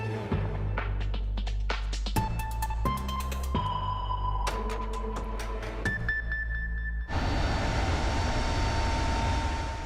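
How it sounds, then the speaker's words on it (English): A U.S. military cargo plane airdropping pallets of food over Gaza, its engines droning loudly and continuously, with a series of sharp mechanical clunks and tonal whines in the first seconds before a dense roar of rushing air takes over. "a U.S. military plane opens its rear doors, dropping pallets of food to the people below"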